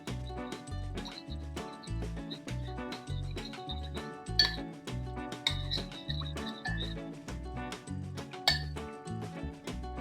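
Spoon clinking steadily against a bowl while salad dressing is mixed with a heaped teaspoon of cornstarch, rapid repeated clinks in a close, even rhythm with no talk.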